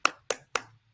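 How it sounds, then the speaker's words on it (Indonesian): Three sharp hand claps in quick even rhythm, as in a classroom clapping chant, close and crisp with brief decay, no voices. "Tepuk sifat wajib bagi Rasul."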